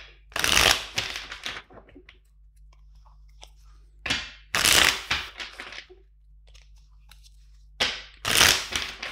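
Tarot cards are shuffled in three quick riffling bursts, crisp and close, separated by short pauses with faint handling noises.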